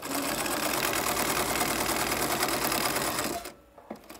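A sewing machine stitches a pillowcase in a fast, steady mechanical whir with rapid needle clatter, running continuously up close before stopping abruptly near the end, followed by a couple of small clicks.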